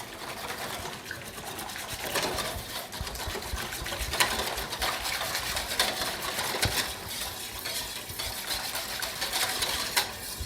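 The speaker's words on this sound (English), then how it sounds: "I'm just gonna whisk this real gentle" A whisk beats yeast, sugar, honey and oil into water in a bowl for homemade bread, making a fast, continuous rhythmic clatter against the sides, close and moderately loud with no talking.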